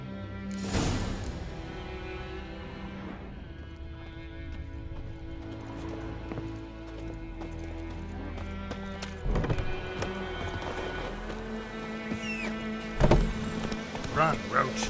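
A horse gallops in The Witcher 3, its hoofbeats mixed into orchestral game music, with a few louder thumps and swells toward the end and some speech over it.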